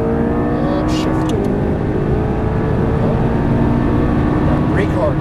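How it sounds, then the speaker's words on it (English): A McLaren MP4-12C on the Exotics Racing track in Las Vegas accelerates at full throttle, its engine a loud, steady close roar rising in pitch, with a driving instructor talking over it. "now feet in the throttle, accelerate out, full throttle to the left"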